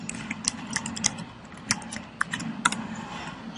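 Credit card details being typed on a computer keyboard, a quick irregular run of close, soft key clicks over a faint low hum.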